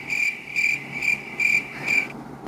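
A cricket chirps in five evenly spaced bursts of shrill trills, clear and close against a quiet background, with no voices present.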